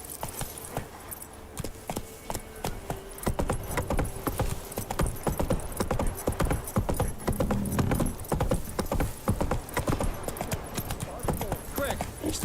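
A horse gallops in The Witcher, its hooves drumming in a fast, steady rhythm with faint jingling tack, while a voice speaks over the hoofbeats.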